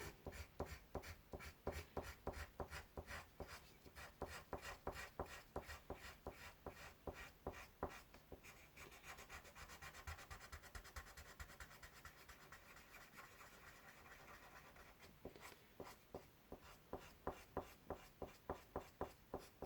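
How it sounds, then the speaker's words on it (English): Steady, rapid scratchy strokes of a colored blender pencil rubbing on grey paper, close and quiet, with a rhythmic back-and-forth texture that briefly smooths out midway. "I'll take the blender pencil and just blend."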